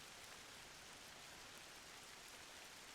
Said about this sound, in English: It's raining. You guys hear the rain?